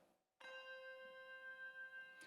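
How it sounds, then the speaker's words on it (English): A C hand chime from a bell choir is struck once and rings out clearly and close, a bright, sustained tone with sparkling overtones that fades slowly. "Katie Seagraves, would you play a C chime? Kind of like your doorbell."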